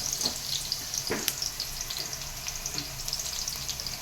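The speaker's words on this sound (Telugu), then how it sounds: "ఆయిల్ వేడైందండి. ఇప్పుడు మనం ఉల్లిపాయ వేసుకున్నాం." Chopped onions sizzle in hot oil for a chicken leg piece curry, a steady bright crackle with small pops and a few louder spits, close and alone.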